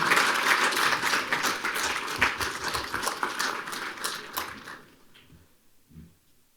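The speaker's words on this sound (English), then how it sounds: "If we can have one more round of applause for all" Sustained audience applause fills a hall of fame ceremony, a dense wash of clapping hands that holds steady for several seconds, then thins out and fades to a few scattered claps.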